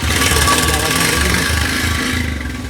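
A motorcycle engine runs steadily with an odd noise in it, a loud, close, continuous drone with a rough pulsing texture that fades slightly at the end.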